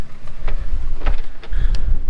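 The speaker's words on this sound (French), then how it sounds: "On a à peu près 25 nœuds de vent" Strong wind of about 25 knots buffeting a sailboat at sea, a loud steady low roar with gusty rushes and faint splashes, heard alone up close.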